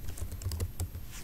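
Quiet, quick keystrokes on a computer keyboard while text is entered into an Excel data entry form, tapping in a short uneven run with no talking.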